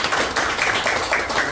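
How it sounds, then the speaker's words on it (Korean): Seminar attendees give welcoming applause to a photography lecturer, a short burst of close, fairly loud clapping with a rhythmic, slightly uneven pulse. "우리 환영의 박수로 초청해 주시기 바랍니다."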